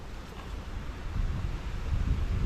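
Outdoor wind blowing while a fishing net is cast, a low steady rumble and buffeting across the microphone that swells slightly louder midway and stays constant, with no voices.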